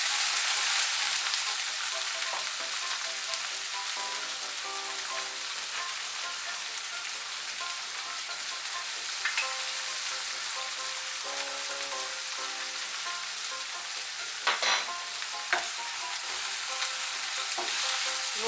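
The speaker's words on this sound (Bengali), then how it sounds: "নুনটা ভালো করে মিশিয়ে নেব।" Bitter gourd fries with salt in a pan under a steady, dense sizzle, occasional utensil scrapes and taps as it is stirred, with one sharper clank toward the end.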